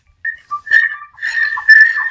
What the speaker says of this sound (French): Vous voyez ici, j'ai changé la sonnerie.